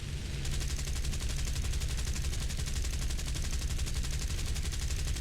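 Rapid, continuous machine-gun fire from a B-25 bomber's gunners in the War Thunder video game, a dense, steady stream of shots holding at an even level throughout.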